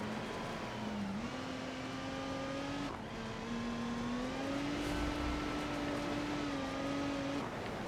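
Race car engine in a racing video game with worn or missing brakes, droning steadily with gear-change steps in pitch and a continuous loud whine, no talk over it.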